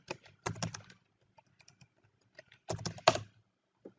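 A password being typed on a computer keyboard, with soft, close key clicks coming in two short bursts and a few scattered taps between them.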